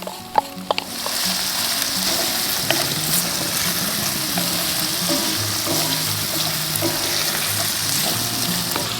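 Chopped carrots dropped onto browned onions frying in a pan, a steady close sizzle with a brief clatter as they land, followed by continuous crackling and bubbling without any talk.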